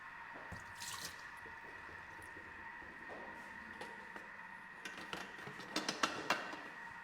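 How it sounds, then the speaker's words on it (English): Soaking water strained off chestnuts in a kitchen, with faint steady trickling and scattered drips and splashes that grow louder toward the end. "I'm going to strain the water out from this chestnut"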